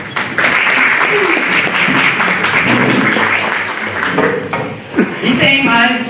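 Audience applauding at a public lecture on dictatorship, memory, democracy and human rights at a university, a steady crowd clapping that holds throughout, with voices rising near the end.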